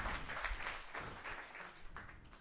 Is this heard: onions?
no